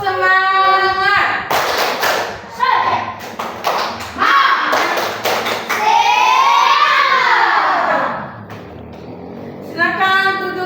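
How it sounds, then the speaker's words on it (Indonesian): Children in a classroom doing a rhythmic spirit clapping chant, patterned claps and thumps mixed with children's sung and shouted voices, loud and close. "Sekarang kita tepuk semangat."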